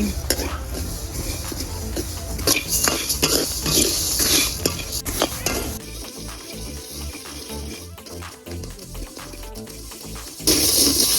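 Leftover rice aggala being fried and stirred in a pan, with a spoon scraping and clinking against metal over a steady sizzle, loud and close, and a quieter frying stretch in the middle.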